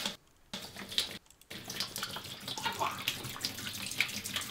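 Water from a store-bought jug splashes and gurgles steadily into a container, a close, continuous pour broken by two brief pauses.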